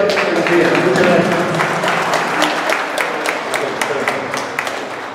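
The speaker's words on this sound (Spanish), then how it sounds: "fuerte, fuerte, fuerte aplauso para el día." A community meeting audience of neighbours gives a strong round of applause, dense clapping that starts full and gradually thins, with some voices mixed in underneath.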